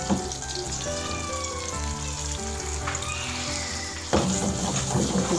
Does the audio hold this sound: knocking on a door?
no